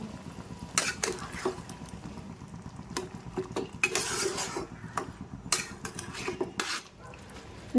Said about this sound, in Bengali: আমি ভালো করে আরও একবার নাড়াচাড়া করে নেব